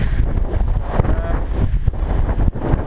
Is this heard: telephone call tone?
no